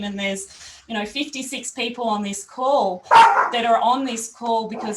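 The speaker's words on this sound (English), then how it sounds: "sorry, my puppy dogs are just being fed." Puppies barking and yipping eagerly while being fed, close and loud, in repeated bursts under and between a person talking on a group call.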